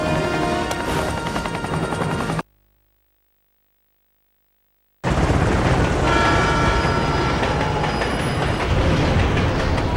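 Helicopter rotor roar from the video game 007: Everything or Nothing, a loud, dense mechanical drone that cuts out completely for about two and a half seconds midway, then returns at full strength.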